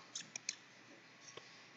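Computer mouse clicked a few times in quick, faint, sharp taps close by, followed by another single soft click in a quiet room.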